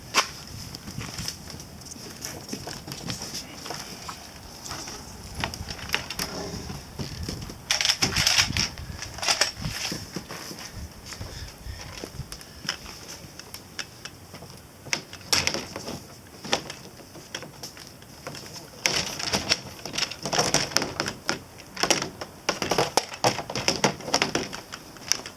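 Metal locking pieces being fitted by hand on a Rapido Export trailer tent, heard as irregular clicks, taps and knocks in clustered bursts, fairly close, with no talking.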